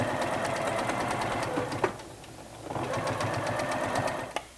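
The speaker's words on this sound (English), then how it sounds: "just sew the edges open, removing your pins as you come to them" A sewing machine stitches the edges of a flaxseed warming pillow with a fast, even needle rattle up close, pausing briefly near the middle before the stitching resumes, with a couple of light clicks and no speech.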